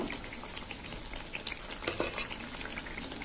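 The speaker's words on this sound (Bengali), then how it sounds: "এই যে মালপোয়াটা ভাজা হয়ে গেল।" Carrot malpoa frying in a pan of hot oil gives a steady, close sizzling hiss with a brief clink partway through, and no voices.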